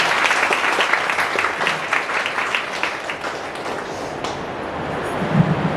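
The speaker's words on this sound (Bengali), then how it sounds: "প্রভু জন্য জোরে করতালি দেয়।" A church congregation claps loudly together during a Bengali service, a dense steady patter of many hands that holds through the whole stretch with small swells.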